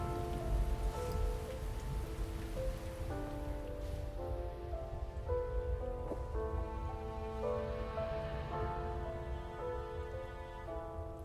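Steady rain pours throughout the intro of the hidden-object game Grim Tales: The Bride, a continuous wash under sustained musical tones, with no voices.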